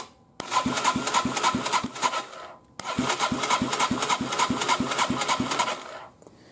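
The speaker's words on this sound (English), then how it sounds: "now we're going to test the spark with the OEM CDI box." A 1999 Yamaha TW200 motorcycle engine, tested with its original CDI unit and no exhaust, cranks and sputters in two long rasping bursts, with a rapid rhythmic ticking beat, briefly dropping out in between, then cutting off.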